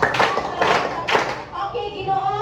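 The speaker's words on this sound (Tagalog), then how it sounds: "bigyan ng tatlong bagsak na palakpak si Binibining Mamunta" A classroom gives a student three sharp, rhythmic claps in unison, evenly spaced and loud, and a voice starts speaking right after.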